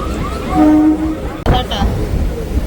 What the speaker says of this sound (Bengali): ট্রেন ছেড়ে দিল আস্তে আস্তে